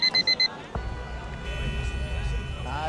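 A beeping alarm clock sounds three quick, clear beeps at the very start, then stops under general background noise and movement.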